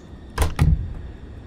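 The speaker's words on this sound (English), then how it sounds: "let's go ahead and get our doors closed." Two doors on a DC-3 in Microsoft Flight Simulator 2024 shut in quick succession, a pair of solid thumps about a fifth of a second apart over a quiet cabin hum.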